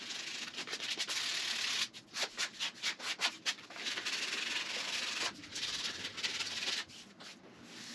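Painted wood railing being hand-sanded, a close, steady scraping rub broken into quick back-and-forth strokes midway, then returning to longer continuous passes.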